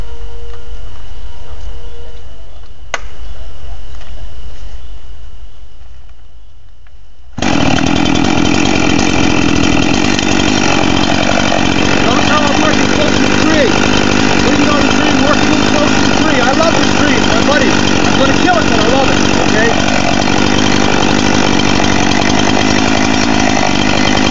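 A chainsaw cuts the up cut of an open face notch while felling a tree: quiet idle and handling at first, then the engine roars loud and close at full throttle, sustained and steady, with a voice underneath.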